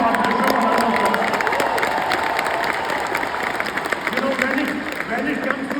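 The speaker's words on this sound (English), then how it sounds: "So give my partner a round of applause." A large conference audience in Las Vegas applauds and cheers, with thick clapping, whoops and shouted voices layered over a continuous crowd roar that stays loud throughout.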